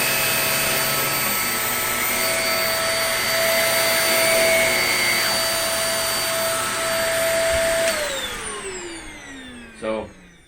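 A Shark NV22 vacuum cleaner runs with a loud, steady motor whine and airflow hiss that holds for several seconds, then spins down as it is switched off, followed by a brief knock.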